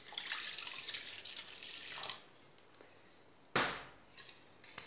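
Lukewarm water is poured into pizza dough, a rushing, splashing stream for about two seconds, then a quiet pause and a brief second splash, close and fairly soft.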